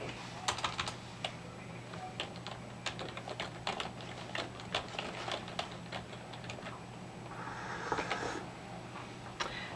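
Fingers type a password on a computer keyboard in a run of quick, irregular key clicks over steady low room hum, close and moderately loud, with no talking.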